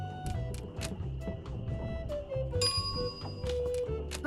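A bicycle bell rings in the video game Monkey Island 2 Special Edition, a series of quick metallic dings repeating rhythmically over game music and thumping sounds.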